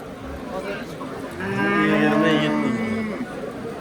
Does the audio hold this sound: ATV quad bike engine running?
no